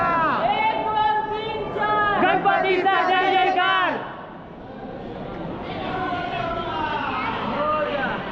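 Dense crowd at Ganpatipule beach on a busy Sunday: loud, close voices shout and chatter over a constant babble, dipping briefly before the noisy hubbub swells again.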